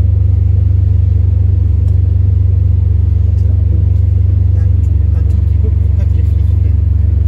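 A Ferrari 599 engine idles after start-up, a steady deep rumble with little change, heard close from inside the car while someone talks over it.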